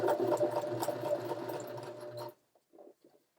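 A sewing machine runs steadily for about two seconds, stitching along the edge of a fabric template for a wall hanging, then stops, leaving a few faint handling clicks.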